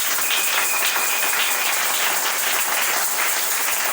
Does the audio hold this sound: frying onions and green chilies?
no